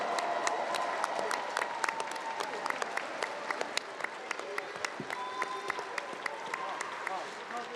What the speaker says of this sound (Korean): 이 두 분을 위해서 힘찬 박수 보내주십시오.